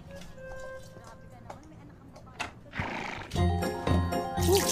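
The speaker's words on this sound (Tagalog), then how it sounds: "Kabayo!" A horse neighs loudly and repeatedly in a comedy film scene, with heavy whinnies building toward the end over background noise.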